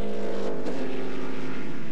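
American GT race cars with big iron V8 engines at a 2000 Grand-Am road race, a loud, full-throated roar and rasp held steadily as the cars pass close by.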